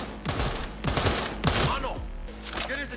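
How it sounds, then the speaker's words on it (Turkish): Rapid bursts of automatic gunfire ring out in the video game Cyberpunk 2077, loud and close, repeating across a few seconds with game music running underneath. "Adamı görmeden sıkıyorum ha."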